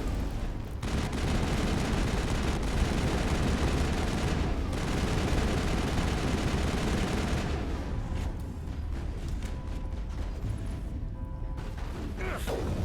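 Dense, continuous gunfire and explosive combat noise from the sci-fi shooter Mass Effect during a boss fight, loud and sustained, thinning out into scattered mechanical effects near the end.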